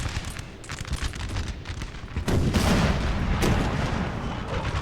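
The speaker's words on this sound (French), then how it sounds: "Mes batteries tirent sur la cavalerie," Artillery batteries in the Napoleon: Total War video game fire on cavalry, a dense rumbling battle soundscape of repeated booms and crackling musketry, growing heavier and more continuous partway through.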